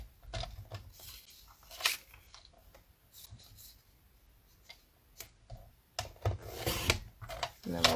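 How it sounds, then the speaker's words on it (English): Paper being trimmed to size for a stamped beach-themed card makes close, soft clicks, scrapes and short rasps that come in scattered bursts with quiet gaps between them. "I'm going to trim this down exactly to the stamp"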